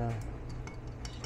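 Nickel electroplating solution stirred in a glass container, a quick run of light clinks and taps against the glass, close and fairly quiet, with a faint hum underneath.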